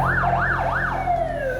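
Loud ambulance siren wailing in rising and falling sweeps that settle into a long descending tone as the vehicle arrives, close and continuous.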